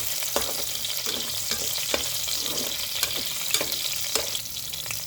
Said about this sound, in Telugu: కొద్దిగా ఆవాలు, ఎండుమిరపకాయలు వేస్తున్నాను